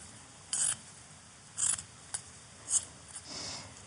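Scissors snip through cross-stitch embroidered fabric being trimmed into a cushion, giving four short, crisp cuts spaced about a second apart, fairly faint against a quiet room.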